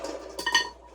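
Metal pot clinking and clattering as cooked quail eggs are drained, a few close, bright knocks clustered in under a second over a light wash of running water.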